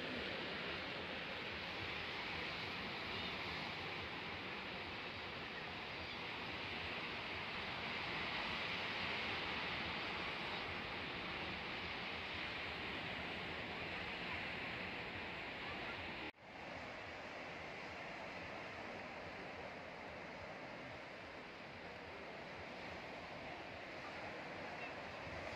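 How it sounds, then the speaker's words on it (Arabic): Sea waves wash steadily onto Saidia beach at sunset, a broad continuous roar of surf mixed with wind buffeting the microphone, with a brief cut partway through. "الصوت ديال الأمواج ديال البحر"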